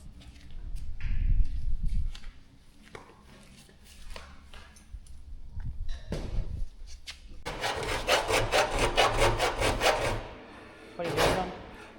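Close wooden rubbing and scraping strokes as wood is shaved to trim it, then a quick rhythmic run of rasping shaves, with faint handling knocks between.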